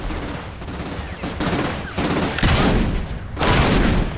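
Rapid bursts of automatic gunfire rattle through a Saints Row IV game scene, loud and dense, with several volleys swelling in quick succession and a faint voice underneath.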